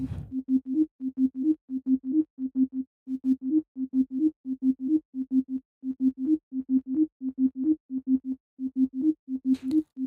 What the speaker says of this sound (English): Very simple sound, actually. It's just a sine wave and some noise.